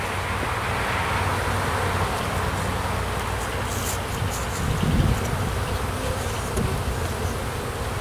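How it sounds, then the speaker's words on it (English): Honeybees buzz around a beehive during an early March inspection, a dense, steady droning hum close by that fills the whole stretch without pause, with no talking. "Plenty of bees up there"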